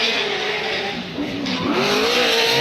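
A Chevrolet drift car at a Formula Drift qualifying event in New Jersey screams through its gears at high revs, engine pitch rising and dropping with tire squeal and skidding, loud and close.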